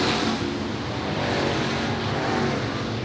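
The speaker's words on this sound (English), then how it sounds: "we're back to racing at Patriots Park Raceway in the 602 division" 602 Sportsman race cars racing at Patriots Park Raceway, a dense, continuous roar of engines that stays loud and steady throughout.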